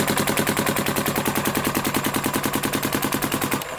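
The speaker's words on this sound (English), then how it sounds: "Shooting brittle paint, cycling it just fine." A Planet Eclipse Geo R5 paintball marker fires on ramp mode in cold weather, a fast, perfectly even stream of loud close pops for several seconds before stopping abruptly.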